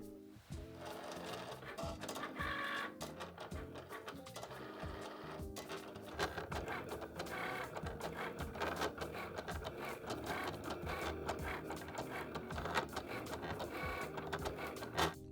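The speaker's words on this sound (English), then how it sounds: "Go ahead and select the C button on your Cricut, and it'll start cutting." A Cricut vinyl cutter cuts black iron-on vinyl for a T-shirt, giving a quiet, busy stream of mechanical whirring and rapid clicking carriage movements that runs steadily for about fifteen seconds.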